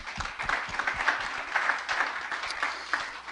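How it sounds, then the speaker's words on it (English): Applause for the organisers at an evening green building event, a modest room of people clapping at moderate distance. Individual claps are distinct and the sound rises and falls in uneven bursts. "So big round of applause to them."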